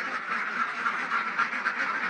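Ducks quack continuously in a loud, close chorus of overlapping nasal calls.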